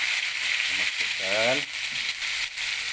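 Ingredients sizzle in hot oil in a wok for spicy fried fish, a steady bright frying hiss throughout, with a brief voice sounding under it.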